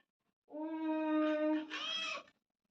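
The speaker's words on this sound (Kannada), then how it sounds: "ಚಿನ್ನು ಮಿಯಾವ್ ಮಿಯಾವ್ ಅನ್ನುತ್ತೆ" A house cat gives a single long, clear meow close by. The call rises toward its end and is heard alone in a quiet room.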